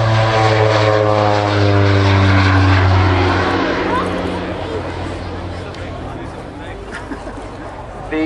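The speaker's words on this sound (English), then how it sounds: "Getting airborne now, the OV10B." An OV-10B Bronco propeller airplane takes off at an RAF Waddington airshow, roaring loudly with a droning engine tone that rises and then recedes into the distance, fading to a lower rumble with faint chatter.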